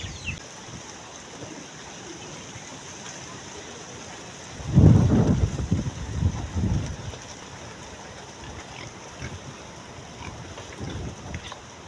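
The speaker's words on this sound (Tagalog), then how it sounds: "Grabe ka kusog ang ulan guys." Steady heavy rain hisses throughout, with a gusty roaring surge of strong wind in the middle that fades back to the constant downpour.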